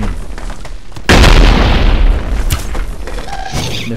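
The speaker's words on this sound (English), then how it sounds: "Stop shooting me." Loud gunfire booms in a multiplayer video game, a heavy blast hitting suddenly and followed by rumbling and further sharper shots, with no voices heard.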